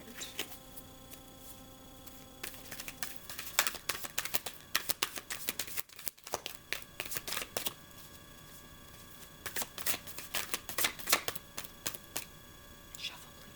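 Tarot cards riffle and shuffle in quick bursts, with a quiet pause midway before more shuffling, close up over a low steady hum.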